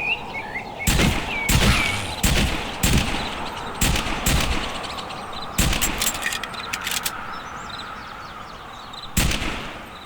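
Gunshots in a VR zombie shooting game, a series of loud sharp reports in irregular bursts, some doubled, with faint chirps and ambient game sounds between shots.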